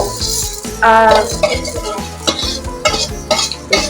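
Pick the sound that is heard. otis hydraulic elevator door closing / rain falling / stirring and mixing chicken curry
stirring and mixing chicken curry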